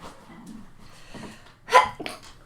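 A single sharp sneeze bursts out in a quiet room, followed by a brief softer breathy sound.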